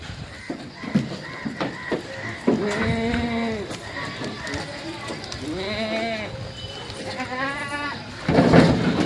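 Kathiawadi goats bleat repeatedly, several wavering calls close by, as they are loaded into a vehicle while people talk over them.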